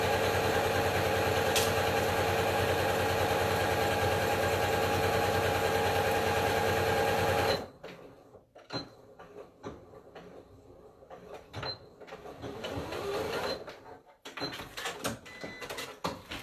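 A sewing machine stitches a bow headband with a loud, steady motor hum that runs continuously for several seconds and then stops abruptly. Scattered handling clicks and rustles follow as the fabric is moved.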